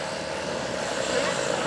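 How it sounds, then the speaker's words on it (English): A John Deere 7820 tractor runs down the track at a 22,000 lb tractor pull, its engine a steady loud roar that holds without letup across the short stretch. "We've got a John Deere 7820 coming down the track."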